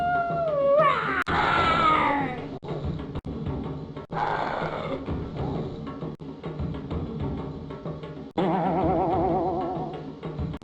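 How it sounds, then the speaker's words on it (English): Synthetic dinosaur roars and growls from a video game play in several bursts, starting with a rising warble, close and loud, with no talking. "Listen to my dino sound."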